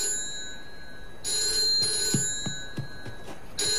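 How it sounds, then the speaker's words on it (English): An electronic telephone rings in short repeated bursts in a video game, a bright trilling tone with soft thuds and clicks underneath. "The phone rang."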